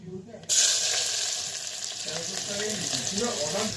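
Chopped onions hit hot oil in a pan and burst into a loud, steady sizzle that holds without pause, cooked for a Bengali masoor dal dish.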